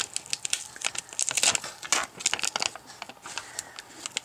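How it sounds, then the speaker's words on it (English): Backing paper peeled off a Velcro sticker, a close, continuous crinkling and papery crackle with small tearing snaps, steady for several seconds with no talk. "you take off the sticker back"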